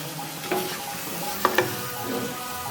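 Vermicelli cooking with condensed milk in a pan, giving a soft steady sizzle with stirring scrapes and a couple of sharp utensil clinks against the pan, close by and with no talking.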